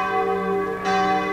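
Church bells ring across the country to celebrate the opening of the 1964 Swiss national exhibition, a rich, sustained metallic peal with overlapping tones that briefly swell, with no talking.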